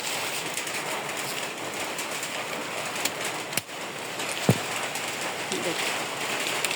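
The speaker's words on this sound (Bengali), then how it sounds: "দেখেন বৃষ্টি হচ্ছে" Steady rain falls close by outdoors, a dense even hiss throughout with a few sharp knocks and a brief bird call.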